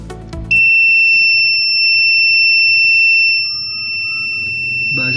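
A steady high-pitched electronic buzzer tone signaling a pump shutting off sounds continuously for several seconds, loud and close, with faint background noise and brief sounds at the start and end.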